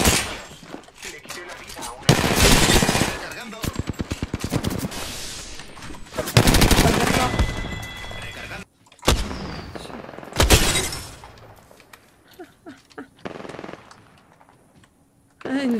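Rapid bursts of automatic gunfire in the video game Apex Legends, several loud, clustered volleys with sharp single shots between them and pauses, while players talk over the action.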